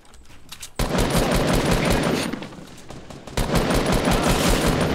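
Loud, close bursts of rapid gunfire in the Fortnite battle royale, coming in two sustained volleys split by a brief lull.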